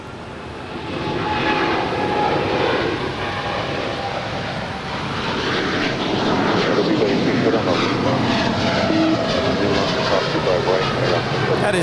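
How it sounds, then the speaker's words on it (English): A two-year-old United Boeing 787-10 Dreamliner jet taking off from LAX, a loud continuous engine roar close by, with some voices underneath. "That is United 1990 departing to Newark Liberty. It's a 2-year-old 787-10 Dreamliner."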